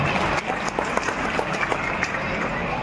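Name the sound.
audience applause for the honoured guest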